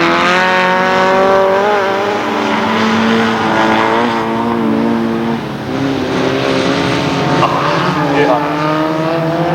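Race cars at the 1993 Syysrylläys autumn rallycross in Kouvola roar past with strained, wavering engine notes and occasional tire squeal, loud and continuous, under a commentator talking throughout.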